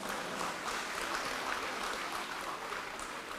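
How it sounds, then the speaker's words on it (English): Faint, steady applause rises from a school graduation ceremony audience for the guest speakers, a continuous even patter of many hands heard from a distance for a few seconds. "A round of applause for our guest speakers."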